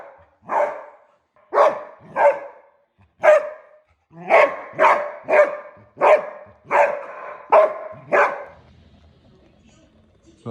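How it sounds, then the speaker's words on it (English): A dog barks repeatedly nearby, about a dozen loud sharp barks in an uneven rhythm, then quiet. "That was my dog Shamrock"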